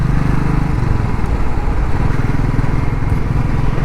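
A loud, close motorcycle engine thumps in a steady, rapid low beat, the heavy pulse of a Royal Enfield passing in city traffic.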